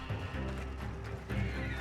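Horses in Red Dead Redemption 2 neigh and whinny over a steady clatter of hooves, set against a busy game backdrop at moderate level without talk.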